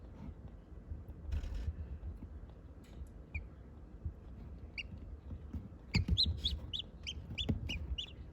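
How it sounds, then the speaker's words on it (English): Three-day-old baby chicks cheep in a run of high, bright peeps, with softer clucks and rustling around them, fairly close and fairly quiet. "Here are the little chicks. They are 3 days old."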